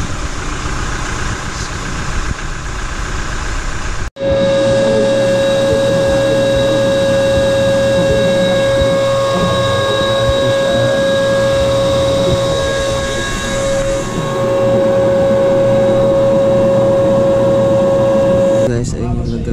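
A Toyota Hilux Conquest engine idles while warming up before an oil change, a steady close mechanical drone with a constant whining tone, running under someone speaking throughout.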